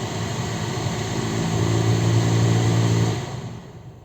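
A steady engine idle of a 2008 VW Cross Polo 1.6 petrol hums low and even, its pitch and loudness lifting slightly midway as the AC compressor kicks in, then easing near the end.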